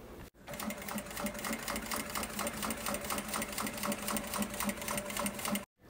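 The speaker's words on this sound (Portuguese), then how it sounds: "Agora, a gente vai passar essa costurinha." A sewing machine runs a topstitch seam in one continuous, fast, even whir of needle strokes, close and loud, with only brief stops at the start and near the end.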